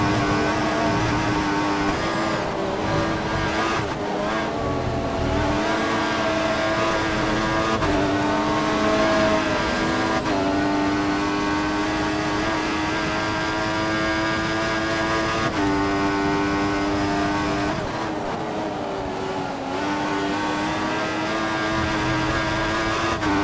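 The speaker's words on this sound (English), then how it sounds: "I'm going to leave you guys to enjoy some of the game sounds for the rest of this lap" A Formula 1 race car engine in the F1 2014 video game at Silverstone screams continuously at high revs, with sharp upshifts and pitch drops every few seconds as it pushes hard through a lap, loud and steady with no talking.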